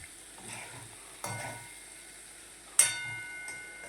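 Cauliflower curry frying in a pan is stirred with a spoon, giving soft scraping strokes over a faint sizzle, with two sharp clanks of the utensil against the pan.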